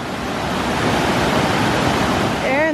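High water rushes through Flume Gorge in Franconia Notch, New Hampshire: a loud, close, continuous roar of churning water that fills the scene, with a brief voice-like sound appearing at the very end.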